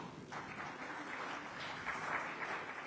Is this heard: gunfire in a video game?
no